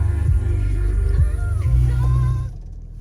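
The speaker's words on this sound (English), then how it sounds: "Let me start up here so you can see the starting sequence." A 2016 Ford F-250 Lariat 4x4 pickup with the FX4 package starts up, a loud steady low rumble with a brief surge as it catches, settling to idle before cutting out abruptly near the end.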